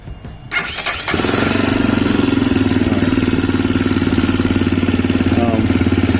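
CSC RX3 motorcycle engine catching after a brief crank, then settling into a loud, steady, rhythmic low idle-like chug as it creeps forward on the clutch without throttle, close up.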